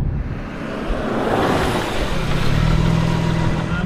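A 510 hp twin-turbo car accelerates hard and steadily, its engine note building smoothly and loudly with a continuous rising drone from start to finish.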